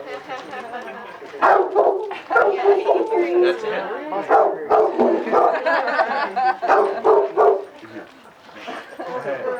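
A dog barks and yips repeatedly in short bursts, close and fairly loud, with a person speaking briefly among the barks.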